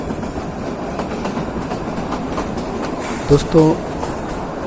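A Kalka–Shimla toy train rolls along its rails with a steady, close rumble and faint clickety-clack, while someone speaks over it and a brief louder clack or squeal lands near the end.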